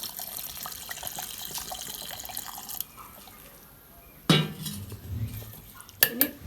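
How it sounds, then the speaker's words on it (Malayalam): Tender coconut water is poured into a bowl while making a Kerala-style coconut milkshake: a quiet liquid trickle, then two louder splashing pours with clinks of a bowl or utensil, close by and with no talking. "ഇനി ഇതിലേക്ക് കരിക്കിൻ്റെ വെള്ളം ഒഴിച്ച് കൊടുക്കുക"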